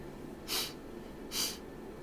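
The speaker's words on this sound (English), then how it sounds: "A sort of sniffling noise." Two short, breathy sniffs spaced about a second apart, soft and close over a low background hiss.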